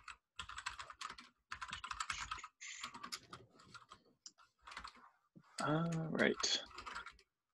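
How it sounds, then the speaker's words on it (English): Computer keyboard typing carries over an online meeting call as a steady, close clatter of keys in several runs, with people speaking briefly over it. "I think there might be someone typing there."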